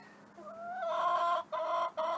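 Newly acquired chickens in a coop and run cluck and murmur close by, their calls building into a steady busy chatter broken by two brief pauses.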